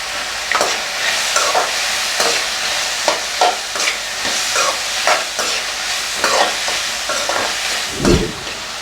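Chopped tomato with fresh coriander and mint sautés in a pan for a spicy tomato thuvaiyal, a steady crackling sizzle broken by repeated scraping stirs of a spatula, close and continuous with no talking.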